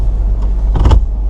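Power windows on a Jeep Grand Cherokee whirring shut inside the car, a short motor hum under steady cabin noise, with a louder burst near the end as the glass seals.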